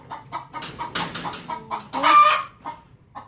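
A hen clucks repeatedly in a garden after laying an egg, with a run of close, loud, uneven clucks that build to a louder squawking burst near the end.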